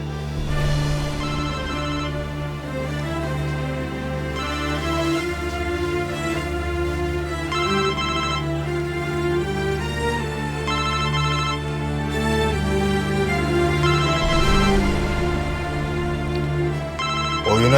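A phone ringtone plays as a loud, melodic electronic tune repeating for the full stretch without talk over it.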